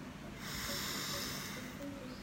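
One deep breath draws in through the nose with a soft, airy hiss, heard close and quiet against otherwise still surroundings.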